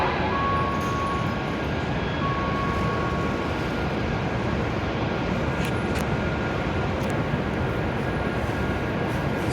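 An E7 series Hokuriku Shinkansen train at a Kanazawa station platform gives a steady, loud, continuous rumble, with a faint thin tonal hum running above it throughout.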